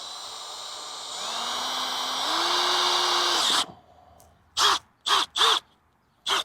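A power drill bores a hole for a homemade chicken waterer, its whine climbing in pitch and running steadily for about three seconds before stopping, followed by several loud crow caws nearby.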